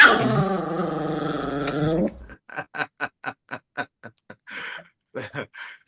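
A small dog gives a low rumbling growl, then breaks into a quick run of sharp, rapid barks and yips, close and loud, with no talking over it.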